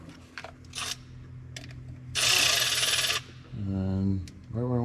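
A hose clamp clicked onto a pump suction line while installing a Pure Flow AirDog 165 lift pump: a few small metallic clicks and a loud burst of ratcheting rasp, then a humming tone.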